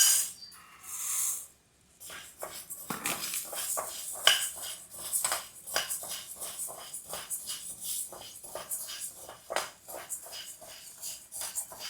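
Urad dal poured into an oil-heated pan and roasted, a rattling pour followed by irregular clinking, scraping and shuffling of grains against metal, fairly quiet and close.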